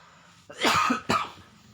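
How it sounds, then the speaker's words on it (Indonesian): Two sharp, harsh coughs ring out close by, one after the other, with a short pause between them. "Maaf, batuk."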